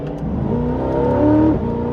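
A sports car engine pulls hard under acceleration on the road, a close, loud mechanical drone climbing steadily in pitch over two seconds, no talk over it.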